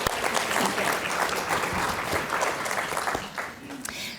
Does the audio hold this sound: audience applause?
yes